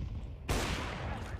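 Gunfire in the video game CS:GO, a sudden loud broadband burst that cuts in partway through and rolls on as dense, sustained shooting.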